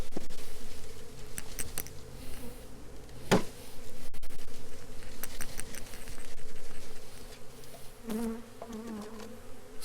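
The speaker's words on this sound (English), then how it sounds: "all we're going to do is dump the bees into the hive." Honey bees tipped into a hive box make a dense, continuous buzz close to the microphone, with a few sharp taps and knocks from the hive breaking through the droning swarm.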